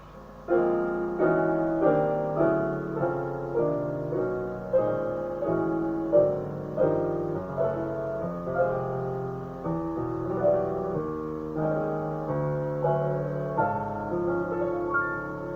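Piano ear-training exercise in octaves, the right hand stepping up a half step each time: a steady run of sustained, ringing octave chords struck one after another at a regular pace, close and clear with no talking.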